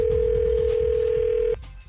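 A telephone line tone sounds during a prank call, one steady electronic tone lasting about a second and a half before it cuts off, with a low rumble underneath.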